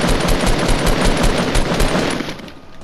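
Rapid automatic gunfire in Fortnite, a loud, steady stream of evenly spaced shots that tapers slightly at the end.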